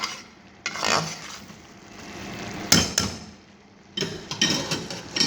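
A spoon stirs chana dal with fresh coriander in a pot, giving scraping, knocking strokes in bursts against the metal with a low simmering hiss between them, close and without talk.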